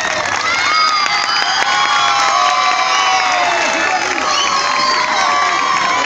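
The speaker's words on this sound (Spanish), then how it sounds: "Pido un fuerte aplauso hoy para Javier Leites" A live show audience at La Cumana 2018 cheers, shouts and claps continuously, a loud dense crowd roar with whoops and voices throughout.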